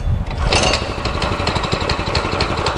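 The small petrol engine of a Marton 100 cm concrete power trowel runs loud and close, with a rough, rapid chugging that stays steady throughout.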